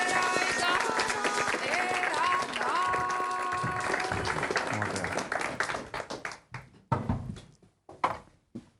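An audience applauds as journalist Horacio Verbitsky is welcomed on stage at a cultural event, a dense sustained wash of clapping mixed with music that thins out into scattered, fading claps near the end.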